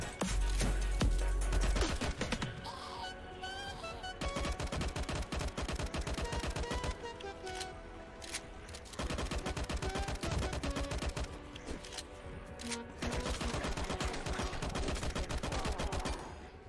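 Rapid, sustained gunfire from a zombie shooter video game, dense overlapping shots and bursts with game music underneath, continuous and loud with no talk.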